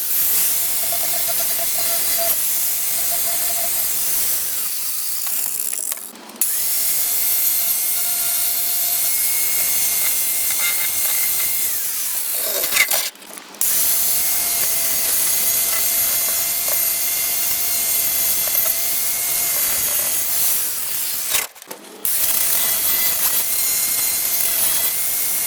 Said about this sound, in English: I'm just going to set out this with a wire wheel and